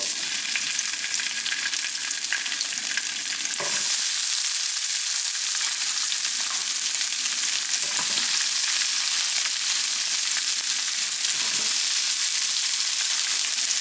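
Vegetables for a Costco yakisoba stir fry with seasoned chicken sizzle and crackle in hot oil, a loud, close, continuous frying hiss broken by a few stirring scrapes, with no talking.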